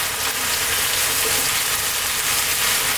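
Sliced onions and chopped garlic sizzle loudly in a pan for Ethiopian lamb tibs, a dense, continuous hiss with no pauses.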